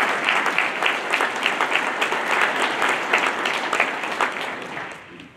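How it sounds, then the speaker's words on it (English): Audience applause at an agricultural board of directors meeting: dense, steady clapping from many hands that holds strong, then tapers off near the end. "Let's give them a round of applause."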